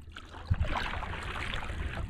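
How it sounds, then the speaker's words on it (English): Paddling a boat across a tropical lagoon, with soft water swishes and paddle splashes close by over a constant breezy background hiss. "Alright, we're paddling."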